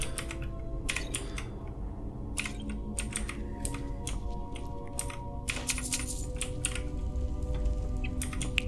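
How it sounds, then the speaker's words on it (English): A mechanical keyboard clatters with rapid, uneven keystrokes throughout, close and crisp over a low game background during Skyrim play. "Apologies if anyone can hear my keyboard. And I know some people can be a bit put off by mechanical keyboards."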